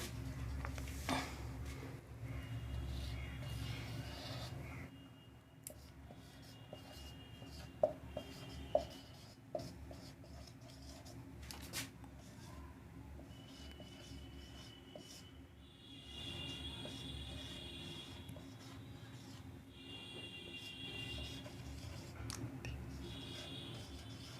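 A pen scratches across paper while a sentence is handwritten, a faint, close series of soft strokes and taps that come in bursts with short pauses over about twenty-four seconds, and no voice is heard.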